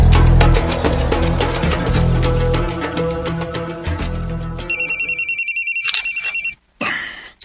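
A phone ringtone of an incoming call, with a repeated electronic trill that rings steadily near the end after music fades, loud and close.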